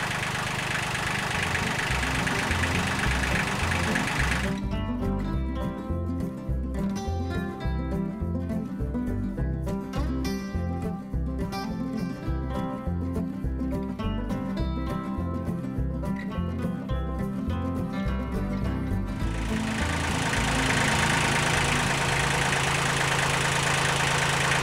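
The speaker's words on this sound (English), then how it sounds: "So I've been pushing the log up with the tractor." A tractor engine idles steadily while pushing a log, a low continuous rumble with a knocking pulse that runs loud and close throughout, with a brief change in the middle section.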